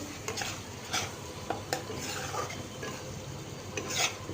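Shrimp masala is stirred and fried in a pan, a spoon scraping and clinking against the metal in repeated strokes over a soft, constant sizzle, close and fairly quiet.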